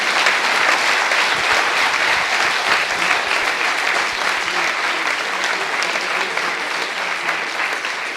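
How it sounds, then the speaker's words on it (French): An audience at a Grenoble conference on the European energy transition applauds steadily, a dense, sustained wash of many hands clapping that stays loud throughout. "si vous voulez bien les applaudir."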